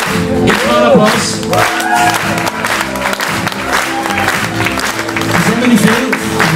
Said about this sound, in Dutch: Geef een applaus.